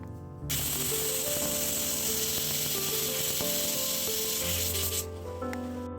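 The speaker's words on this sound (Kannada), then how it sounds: "ಕುಕ್ಕರ್ ಮುಚ್ಚಳ ಮುಚ್ಚಿಬಿಟ್ಟು 1 ವಿಷಲ್ ಕೂಗಿಸ್ಕೊಂಬಿಡಿ" A pressure cooker of nati-style mutton curry lets off steam, a loud, sustained hissing whistle that holds for several seconds before cutting off and leaving a quieter background.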